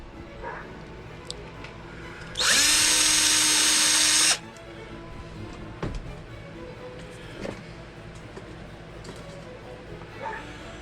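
A tiny 0.5 mm drill bit whines steadily at a high pitch for about two seconds while drilling a pin hole in a model ship frame, then stops, leaving quiet room noise.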